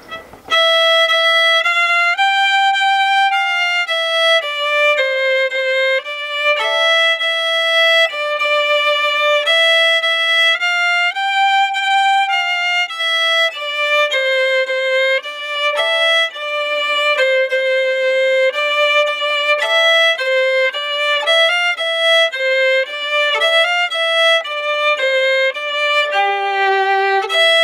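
A violin plays a grade 4 strings exam piece in its high version, a continuous bowed melody of sustained notes in the upper register, steady and fairly loud throughout, with no talking.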